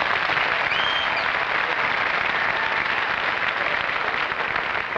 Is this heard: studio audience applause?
yes